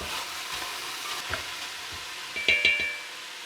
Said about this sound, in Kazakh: Ет өз майына шығарылып жатыр, қуырылып.